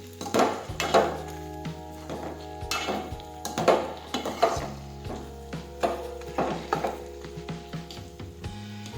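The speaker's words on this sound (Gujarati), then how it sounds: "હવે આપણે ફરી પાછું મિક્સ કરી દઈશું" Okra and potato curry stirred in a pan with a spoon, rhythmic scraping and clinks repeating every second or so over a soft sizzle, close and clear with no talk.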